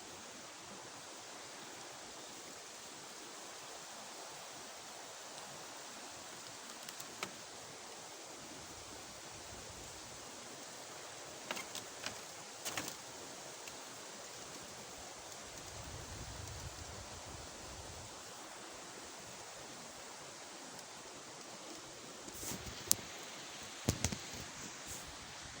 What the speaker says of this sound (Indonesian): ini sumber air mengalir dan menuju ke Sungai Citarum